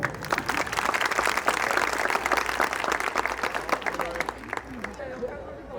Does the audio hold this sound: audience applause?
yes